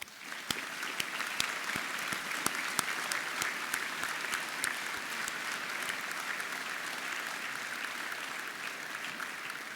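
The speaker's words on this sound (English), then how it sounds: "I think you all deserve a round of applause" Audience applause fills a university graduation ceremony at the University of South Wales, a steady, dense wash of clapping with sharper individual claps standing out, sustained evenly at moderate distance throughout.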